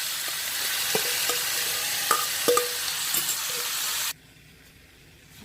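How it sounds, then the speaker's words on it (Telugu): Yellow cucumber pieces coated in batter fry in hot oil over medium heat, giving a steady close sizzle with occasional pops and spatters that suddenly drops away near the end. "ఒక 10 మినిట్స్ మీడియంలో పెట్టి ఇలా వేయించుకోవాలి"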